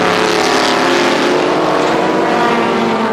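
An old Porsche 993 race car at a 2002 Grand Am Cup race in California gives a loud, steady engine roar that stays close and continuous throughout, with no talk over it.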